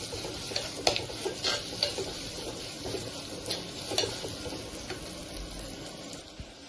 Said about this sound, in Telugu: ఇప్పుడు ఆనియన్స్, ఇవన్నీ ఇప్పుడు మంచిగా వేగిపోవాలండి.